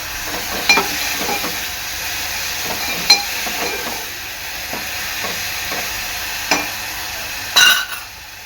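Onion frying in a pan for a drumstick and potato curry, a soft continuous sizzle punctuated by several sharp spatula taps and scrapes against the pan.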